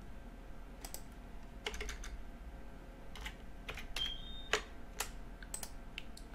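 Someone types on a computer keyboard in short irregular bursts of crisp clicks, close and fairly quiet, with no speech.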